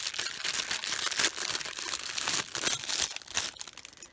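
Sparkly paper crinkles and rustles in close, irregular bursts as it is handled and unfolded, with no talking.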